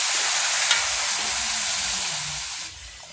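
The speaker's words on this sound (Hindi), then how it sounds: "फिर मैं इसमें डालती हूँ दूध" Milk poured into a hot pan of makhana, cashews and almonds for kheer, giving a bright, close hissing sizzle that starts strong and eases off toward the end.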